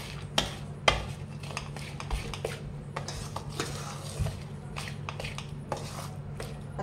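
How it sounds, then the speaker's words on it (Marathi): A spoon stirring sugar and ground cardamom in a bowl, a string of sharp scrapes and clinks at an irregular rhythm, close and fairly quiet, no talk. "हे मिक्स करून घ्यायचं"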